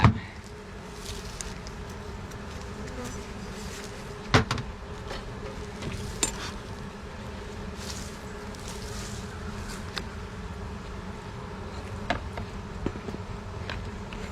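Honey bees hum steadily in an open hive with only a couple frames of bees, a close, continuous drone broken by a few faint knocks of frames being handled.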